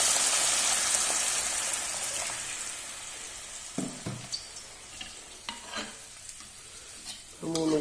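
Water poured into roasted semolina in a hot pan for upma, a loud hissing sizzle and gushing pour at first that settles into quieter bubbling with a few clinks and knocks, no voices.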